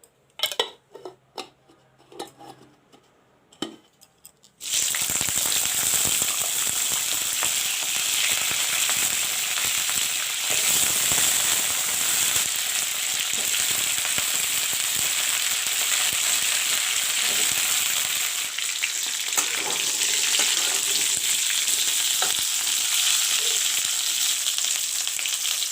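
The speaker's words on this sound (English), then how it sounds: "So I am going to fry the cauliflower and potatoes." Cauliflower and potatoes fry in mustard oil for a village-style curry. After a few soft clinks of utensils, a loud, dense sizzle starts abruptly and holds steady and close, with occasional scrapes of pan and spoon and no voices.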